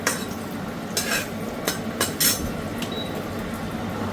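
Bori lentil dumplings are lightly fried in oil, producing a soft continuous sizzle with a few sharp clinks and scrapes of a utensil turning them, close by and without speech.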